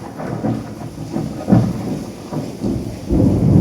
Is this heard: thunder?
yes